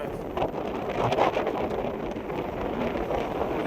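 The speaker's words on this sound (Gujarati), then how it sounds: "જે હવા આવે છે પાછળથી, એ પણ હવા ધૂમ ધમાકા હવા આવે છે." Strong wind gusts across an open green road in Dumas just after rain, a steady, close roar buffeting the microphone for the whole stretch with no talking.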